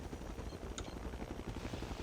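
A military helicopter in a Battlefield 2 conquest match beats with a rapid, rhythmic rotor thump over dense low engine rumble, with a brief sharp crack of fire partway through.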